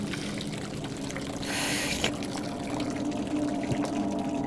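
Water pours into a sink in a VR escape room game, a brief hissing splash of about half a second standing out over steady background noise.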